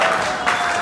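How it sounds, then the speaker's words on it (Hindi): Brief burst of audience clapping at a network marketing seminar, a dense, loud smatter lasting under a second. "पे आउट के लिए जबरदस्त तालियां होनी चाहिए"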